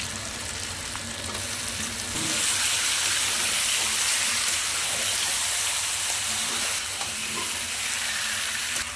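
Chicken being sautéed in spiced gravy with whole spices, a steady close sizzle and frying hiss that swells slightly partway through, with no talk.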